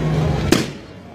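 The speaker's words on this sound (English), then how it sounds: "This balloon's going to pop." A balloon pops once, sharp and close, after a low murmur of voices, and the room settles quickly afterward.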